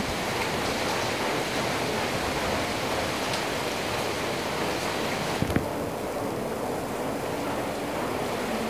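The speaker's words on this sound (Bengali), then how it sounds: "এখন আমি ডিমটাকে ভালো করে ভেজে নিচ্ছি" An egg fries in a pan for a Noakhali-style egg pantua pitha, giving a steady, even sizzling hiss throughout with one brief clink midway.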